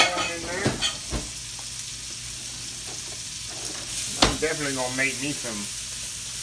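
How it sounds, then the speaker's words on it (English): Chopped onions dropped into a hot frying pan for smothered pork, a brief sizzle burst with clatter and stirring, while someone talks over it. "I'm gonna throw these onions in here that I cut up"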